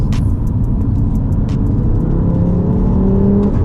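A 460 bhp Audi RS3 8P in stage 2 tune pulls hard under acceleration, a loud, continuous engine roar heard from inside the cabin, rising in pitch as it builds speed.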